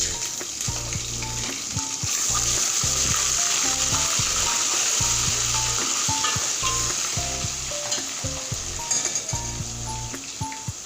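A steady hiss of ginger paste frying in a pan, continuous sizzle with occasional clinks of stirring, and soft music faintly underneath.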